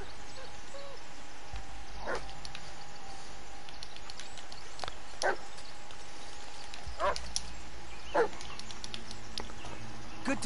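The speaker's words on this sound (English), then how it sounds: "Good dog." A dog in the Blair Witch video game barks and whimpers faintly, with a few short, sparse calls over a steady low ambient background.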